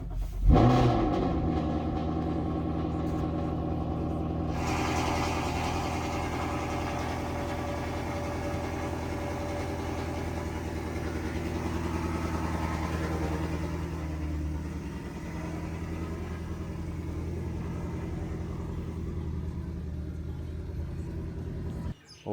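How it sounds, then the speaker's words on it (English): A car engine starts from cold with a sharp burst of cranking, then settles into a steady, rumbling idle that stays loud and even. Roughly twenty seconds pass with no voices. "Last cold start with the car."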